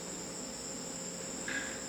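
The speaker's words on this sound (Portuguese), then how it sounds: "vocês podem escutar os grilos" Crickets chirp outside on the deck of a solar-powered ecological house, a steady, continuous high trill with no talking and a brief extra buzz near the end.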